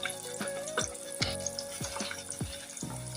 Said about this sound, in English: now we got the grease hot. Go ahead and drop them in.